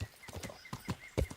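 A horse's hooves clip-clop in an uneven run of muffled thuds in Kingdom Come Deliverance, close and moderately loud, with no talking.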